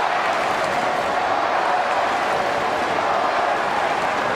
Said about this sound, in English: They're standing up, they're clapping.